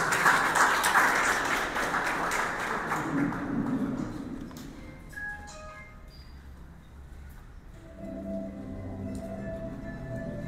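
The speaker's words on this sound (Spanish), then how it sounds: "Fuerte aplauso, por favor." Audience applause at a convenio signing ceremony in Pastaza, loud and dense at first, then fading over several seconds into a quieter room with scattered taps and murmurs.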